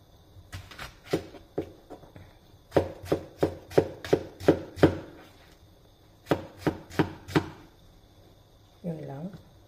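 An onion is chopped on a cutting board for a simple Greek dish: crisp knife strikes in quick rhythmic bursts of several chops each, close and clear, with a short voice at the end.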